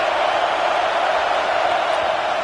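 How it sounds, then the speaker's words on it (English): A stadium crowd at a football game roars steadily to rattle the kicker before a field goal attempt, a dense, loud, unbroken wall of cheering. "This crowd trying to do its part to get inside the kicker's head."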